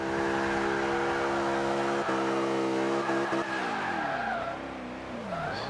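A supercar drifting in Forza 5, engine droning steadily at high revs while tires squeal loudly and continuously, the engine note dipping and wavering toward the end as the slide changes.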